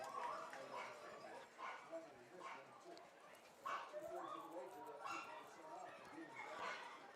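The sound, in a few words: dogs barking at a baseball game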